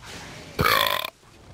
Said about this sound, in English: That's what a kitty mara is worth, a burp.